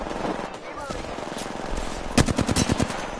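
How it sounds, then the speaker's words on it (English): Rapid automatic gunfire in the Apex Legends battle royale game, a quick burst of close, loud shots near the end over a busy background of game sounds and talk. "I'm getting shot in the back."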